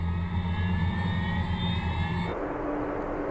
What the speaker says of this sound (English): when you open up the power, it takes a little time for the engines to accelerate